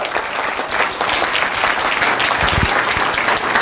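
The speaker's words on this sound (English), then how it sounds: "we got to give this man a round of applause" Loud, steady applause from a live audience at a main event, sustained evenly from start to finish with no talk over it.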